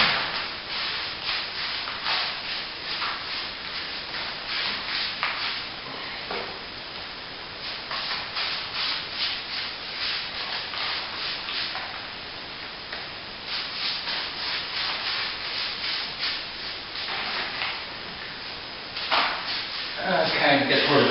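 A stiff brush sweeps dust off a wet brick wall being prepared for solid plaster repair, a steady close scratchy rubbing in repeated strokes with brief pauses between passes, and no talk.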